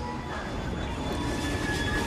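A train in the Assassin's Creed Syndicate video game rumbles on steadily throughout, a moderate, continuous rolling noise with faint tonal hums and no voices.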